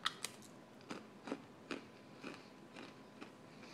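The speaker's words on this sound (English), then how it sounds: "And they have a good crunch." Crisp Goldbaum's Crisp Bites snack crunched bite after bite, about eight sharp close crunches spread evenly with short pauses, fairly quiet and with no talking.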